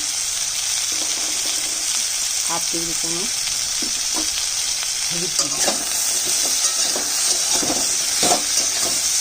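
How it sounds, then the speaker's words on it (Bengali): Potatoes, pumpkin, drumsticks and jackfruit seeds fry in a pan with a steady, loud sizzle and occasional stirring scrapes, while someone speaks briefly over the cooking. "আলু, মিষ্টি কুমড়ো, সজনা ডাঁটা, কাঁঠালের বিচি একটু ভেজে নেব"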